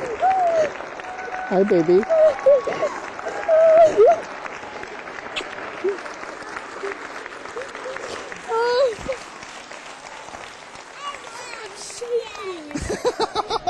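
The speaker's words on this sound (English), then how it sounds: "The crowd gave this surprise reunion a standing ovation." Applause from a crowd greets a soldier's surprise homecoming reunion with his wife and young daughter, steady clapping running through the whole stretch beneath close, emotional talking and a few excited voices.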